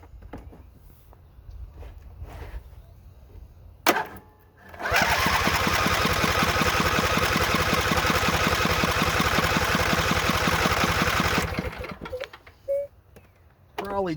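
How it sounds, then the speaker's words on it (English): A carbureted engine with no fuel yet in its lines cranks over on power from a LOKITHOR JA301 lithium jump starter, a loud, steady, rapidly pulsing churn lasting about seven seconds. It stops abruptly, leaving quieter handling noises before and after. "I'm going to try to attempt to crank it, see if it'll turn it over."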